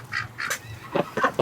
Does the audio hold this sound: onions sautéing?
no